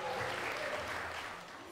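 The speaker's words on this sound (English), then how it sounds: "Let's give another applause for Mr. and Mrs. Jonathan Jarman and the bridal party." Brief wash of applause at a wedding reception for the newly married couple and bridal party, a soft diffuse clapping from the guests heard at a distance and fading slightly.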